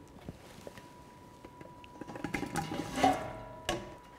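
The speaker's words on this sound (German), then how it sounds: "Die Kirschen nun in den Topf füllen." A kilogram of freshly pitted cherries pours into a jam-making pot, producing soft wet tumbling and a few knocks that build to a brief peak before settling. No one speaks.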